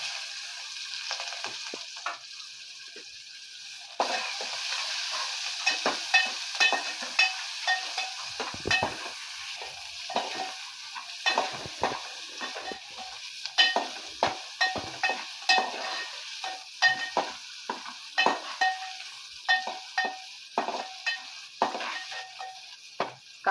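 Finely chopped onion fries in a pan with garlic, asafoetida and curry leaves, giving a steady close sizzle. A spoon stirs it in repeated scraping strokes that grow more frequent toward the end, with no voices.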